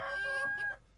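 Chickens clucking in a short sound effect, a close, busy burst of several overlapping clucks and squawks lasting about a second before cutting off, with no talking.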